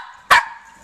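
A pinscher lets out a single sharp, close bark, brief and loud against a quiet room.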